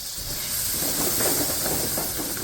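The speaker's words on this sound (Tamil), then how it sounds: "இது கூட தயிர் ஊற்றிடணும் ஒரு இருபது கிராமு" Yogurt hitting hot spicy minced-meat and greens gravy sets off a loud, dense hiss of steam and sizzle that stays close and steady for a couple of seconds, with no voices.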